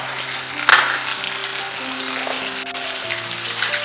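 Ground onion paste hitting hot oil tempered with green chilli and a bay leaf, a close crackling fry with a brief louder spit near the start, then a steady sizzle, no talking.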